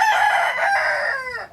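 A rooster crows once, close and loud, a single cock-a-doodle-doo lasting about a second and a half with no speech.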